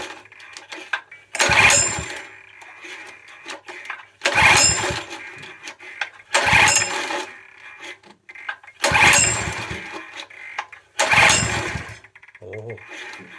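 Small petrol pressure-washer-sized engine with choke and throttle set, cranked by pull start five times in a steady rhythm, each pull giving a loud, rough burst of coughing that dies away, with a faint voice briefly near the end.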